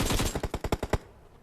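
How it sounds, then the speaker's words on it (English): Rapid automatic gunfire in a competitive video game scrim, a dense burst of about ten sharp shots in quick rhythm over roughly one second, loud and close, then trailing off into quiet. "I'm getting shot."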